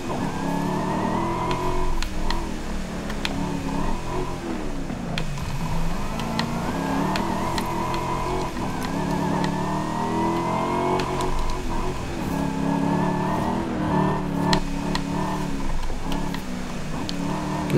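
A Ferrari's engine and gearbox in Forza Horizon 5 produce a continuous revving drone, the pitch repeatedly climbing and dropping through gear changes, with a thin high whine layered over the engine note.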